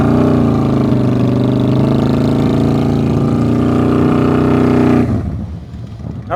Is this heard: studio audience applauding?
no